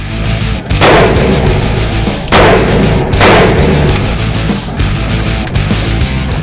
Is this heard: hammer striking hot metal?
no